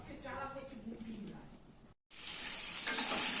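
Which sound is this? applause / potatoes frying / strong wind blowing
potatoes frying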